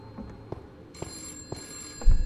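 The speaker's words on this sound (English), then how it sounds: "The phone's ringing." A telephone in the Roblox horror game Before Truth rings in short repeated electronic bursts, clear and close, with footsteps thudding softly beneath and a louder knock near the end.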